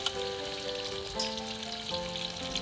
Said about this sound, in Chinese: 直接放入我们的猪脚，而且皮的话是朝下哦